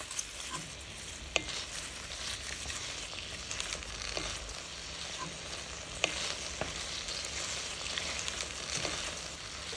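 Vegetable peelings frying in melted fat in a cooking pot, giving a steady dense sizzle with occasional sharp pops and light stirring scrapes, close and continuous with no speech.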